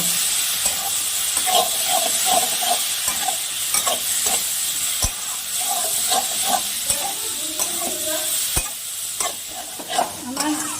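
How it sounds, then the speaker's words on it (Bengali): Spices with cumin and chili powder are sautéed in a pan for a small river fish dish, with a loud constant sizzle under repeated scraping and stirring strokes and sharp clicks of a utensil against the pan. "এবার আমি একটু ভালো করে কষিয়ে নেব"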